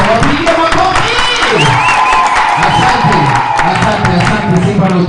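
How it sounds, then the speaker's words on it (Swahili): A congregation at a Sunday church service claps together in a loud, sustained burst of applause, with cheering and raised voices mixed throughout. "Wale washirika wa hapa wapigie makofi."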